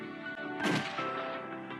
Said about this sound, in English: He took aim without an ounce of hesitation. He aimed at me coldly. Shooting to kill. The muzzle flashed.